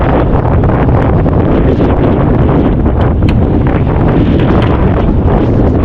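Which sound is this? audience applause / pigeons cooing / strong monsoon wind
strong monsoon wind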